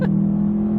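Subaru WRX STI engine heard from inside the cabin under hard acceleration, a brief steady low drone with a strong, even tone and no voices.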